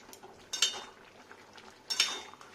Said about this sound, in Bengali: এবার কন্টিনিউ একটু নাড়া দেবো হাই স্পিডে